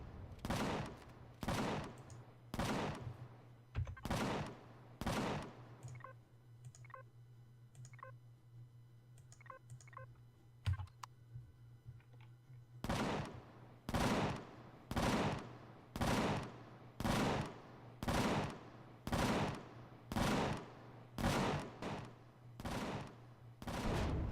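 Rapid, evenly spaced gunshots from a turret in the sci-fi survival game Empyrion, a long regular string of sharp cracks that pauses midway for quieter clicking and tones, then resumes at the same steady rhythm.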